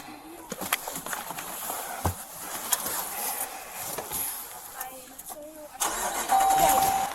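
An engine turns over and catches near the end, then settles into a louder steady idle, after a stretch of background noise, scattered clicks and a few high chirps that may be birds.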